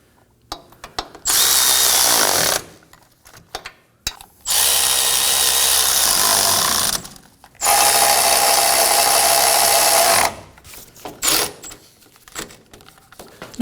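A power tool drives wheel hub bolts snug on a 2017-2024 Nissan Armada rear hub assembly, three long loud whirring bursts separated by pauses filled with small clicks and handling noises.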